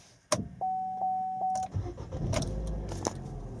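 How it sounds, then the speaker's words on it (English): A Vauxhall Opel Corsa E engine cranks and catches, settling into a rough running rumble, with a steady electronic chime sounding beforehand and a few clicks. "turn the engine off and then back on again"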